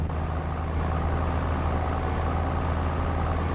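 Heavy truck engine pulling steadily in fourth gear in a trucking video game, a constant low droning rumble at even loudness with no talk over it.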